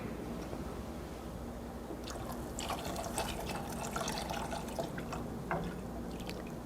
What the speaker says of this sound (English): I'm going to add in my Limoncello Liqueur